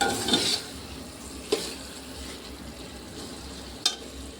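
Soybeans being stirred through masala in a pan, with soft scraping and a few sharp spoon clinks against the metal over a faint, steady sizzle.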